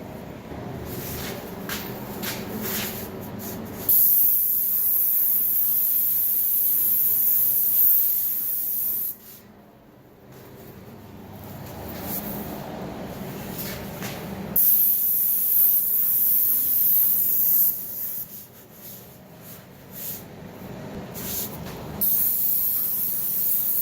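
A spray gun applies primer to cabinets in long, loud, close hissing bursts, broken by brief quieter pauses between passes.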